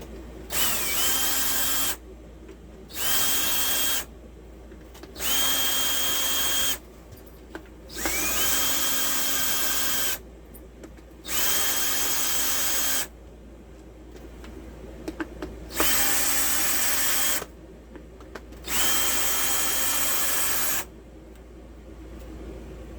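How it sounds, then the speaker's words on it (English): A cordless drill backs screws out of a Ryobi P4360 polesaw housing in eight short bursts of a couple of seconds each, each whirring up and settling, close and loud, with quiet pauses between bursts. "I'm going to speed up this process by using my drill to take the screws out."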